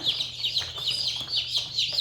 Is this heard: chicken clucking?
yes